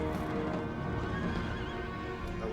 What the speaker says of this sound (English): Ah, here come some horses.